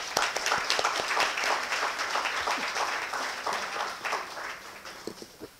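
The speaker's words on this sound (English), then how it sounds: "I would like a round of applause for all of our sponsors and exhibitors" A conference audience applauds sponsors and exhibitors, the sustained clapping of many hands filling the room steadily for several seconds, with a few sharper claps standing out near the end.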